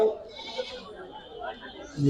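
Goats bleat at a busy goat market, with short calls at the start and end over a steady murmur of crowd talk.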